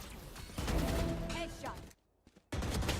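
Rapid gunfire from a shooter video game crackles in dense, loud bursts with heavy impacts, drops out briefly near the end, then resumes, with game voice callouts mixed in.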